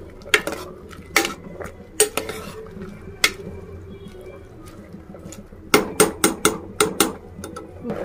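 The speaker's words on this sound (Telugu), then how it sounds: "ఇప్పుడు మనం టమాటా, కరివేపాకు వేసాము, కలుపుకోవాలి బాగా." Chana dal and broad beans curry with tomato and curry leaves is stirred in a metal pot, giving sharp clinks and scrapes in irregular bursts, denser toward the end, close and with no talk.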